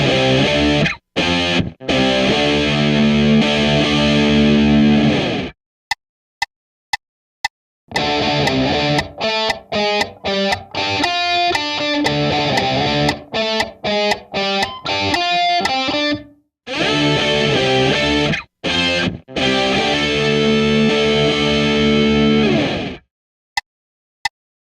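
A distorted electric guitar plays a metal melody built on chord tones over a 12-bar blues, loud phrases broken by sharp stops, staccato stabs and short silences, with no other instruments.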